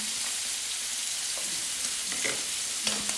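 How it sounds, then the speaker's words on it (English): Steak frying in butter with garlic in a pan gives a loud, close, continuous sizzle with a few sharp spits and crackles and no talk over it. "so we put the butter in And we're basting the steak"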